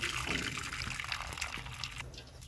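Water drains off boiled spinach in a brief, close pouring trickle with small splashes that tails off toward the end.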